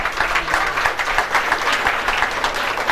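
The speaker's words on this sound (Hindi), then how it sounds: "जोरदार तालियां।" Loud, dense applause from an audience at a ration kit distribution event, continuous rapid clapping that stays steady from start to finish.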